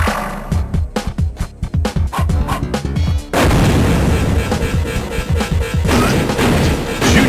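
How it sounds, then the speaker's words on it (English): Explosions tear apart sections of a building in a video game. A rapid series of loud, close blasts and crashing impacts gives way to a sustained, roaring wall of rumbling debris and further detonations. "Junior and Bubba fucking just blowing up parts of the building now"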